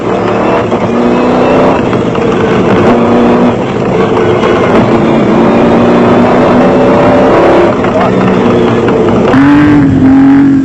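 Off-road race trucks, among them a Nissan and a Ford Ranger, roar loudly and continuously at a South African off-road race, engines droning and revving close by with a rising surge near the end.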